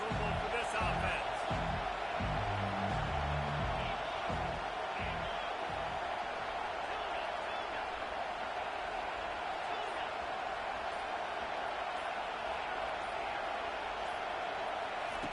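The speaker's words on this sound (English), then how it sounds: "This crowd trying to make life miserable for this offense." Stadium crowd roar in an NCAA football video game, a steady dense wash of noise throughout, with thumping low sounds early on that fade after a few seconds.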